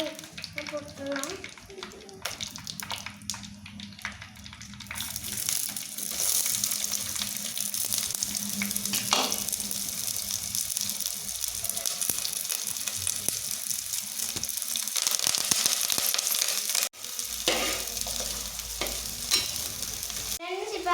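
Onions, chillies and curry leaves hit hot oil and fry with a loud steady sizzle after a few quiet clinks, close by and continuing under intermittent speech.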